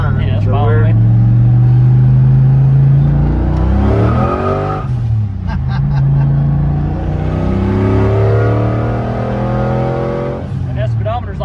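A 1993 Ford Mustang Cobra turbo Foxbody pulls from inside the car with a deep engine note that rises and falls as it builds toward boost. Occupants talk over the engine throughout.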